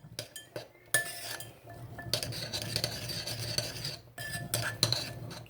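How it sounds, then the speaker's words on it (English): A spoon stirs and scrapes through peas in a bowl to coat them evenly, giving a steady run of close clinks and wet scraping with no talking. "Mix everything up together so your peas are evenly coated."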